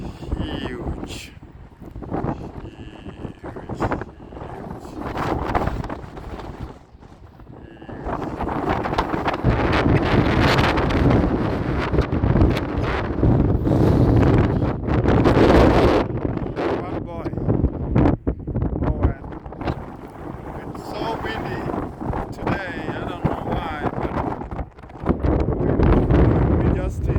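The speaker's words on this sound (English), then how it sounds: "The wind is not doing me justice at all." Gusty wind buffets a microphone outdoors beside a combine harvester on a farm, a heavy low rumble that surges and fades in uneven waves throughout.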